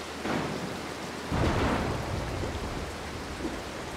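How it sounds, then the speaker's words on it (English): Thunder rumbling in the Mark of the Ninja video game, a soft roll followed by a louder deep crack that fades into steady rain hiss, with no talking. "Wait for thunder. There it is."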